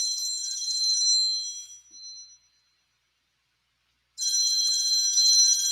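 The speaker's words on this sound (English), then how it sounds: "Oh, my phone's going off, but I'm going to ignore it." A mobile phone rings with a bright electronic ringtone in two loud bursts separated by a pause of silence, heard alone and close.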